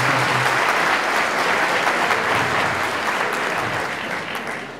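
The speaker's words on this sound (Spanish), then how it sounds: "Entonces dale una aplauso a Annie" A crowd of guests claps loudly and continuously at a wedding reception, dense applause close by that slowly fades toward the end.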